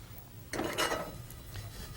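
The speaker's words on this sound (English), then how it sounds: "Place your cumin seeds in a heavy pan and saute them like this" Cumin seeds being dry-roasted and stirred in a heavy pan produce a brief scraping, rustling burst that lasts about half a second, close and moderately loud, with no talking.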